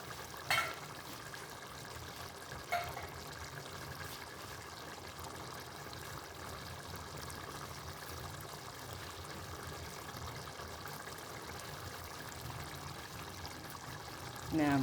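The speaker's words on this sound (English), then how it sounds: "I'm also adding in my diced tomato" Canned diced tomato pours steadily into a pot of traditional spaghetti sauce, giving a continuous wet, gurgling stream with a couple of brief knocks from the can near the start.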